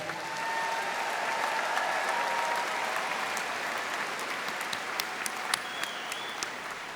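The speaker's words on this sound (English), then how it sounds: "Let's give a nice round of applause again for our graduates here today." Sustained crowd applause for graduates at a Drexel University College of Arts and Sciences commencement ceremony, steady and full, with scattered sharper claps and cheers toward the end.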